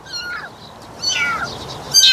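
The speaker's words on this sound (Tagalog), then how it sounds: "Mayroon akong alagang pusa, mga kitten." Three-week-old kittens, four in a litter, give thin high mewing cries in several short bursts, some overlapping, close and fairly clear over a faint background hiss.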